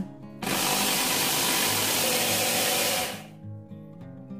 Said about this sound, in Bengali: পালস মোডে চালিয়ে চালগুলোকে রাফলি গ্রাইন্ড করে নেব।